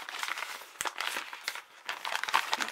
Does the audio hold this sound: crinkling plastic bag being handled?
yes